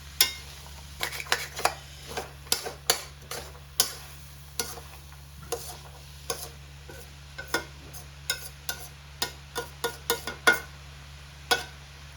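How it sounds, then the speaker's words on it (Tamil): Rice noodles are stirred in a pan over high flame, the spatula clicking and scraping against the metal in quick repeated strokes over a faint background hum, with no voices. "நல்லா கைவிடாமல் கிண்டிட்டே இருங்க"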